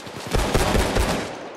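Steakout 12g shotgun firing in Payday 2, a rapid string of about five or six loud, booming blasts in quick succession, close and alone.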